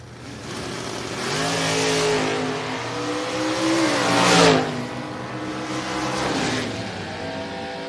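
Drag race between a Chevrolet Nova and a Ford Mustang at a track event, engines roaring loudly as the cars launch and pull away, a swelling peak midway, then a sustained drone.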